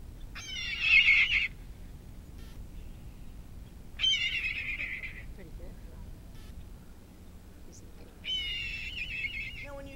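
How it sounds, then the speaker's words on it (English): A red-tailed hawk gives three loud, raspy descending screams spaced a few seconds apart, each about a second long, close by indoors with faint background hum between calls. "Yes, the sound of the red-tailed hawk."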